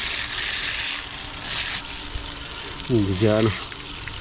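Water gushes strongly and steadily, a continuous close rushing flow like a tap or pipe running full, with someone speaking briefly over it near the end.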